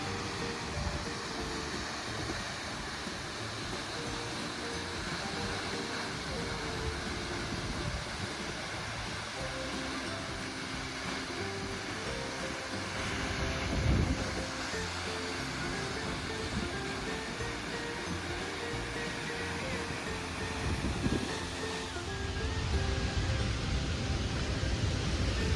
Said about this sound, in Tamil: வாட்டர் ஃபால்ஸ் பார்க்க ரொம்பவே அழகாக இருந்தது. அந்த சவுண்டு கேட்குறதுக்கு